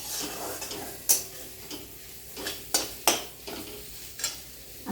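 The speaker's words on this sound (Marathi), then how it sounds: "आता हे सगळं मिक्स करून घ्यायचं आहे" Potato and semolina batter stirred in a bowl for upma vada, with a spoon scraping and clinking against the vessel in several distinct strokes spaced irregularly, close up with no talking.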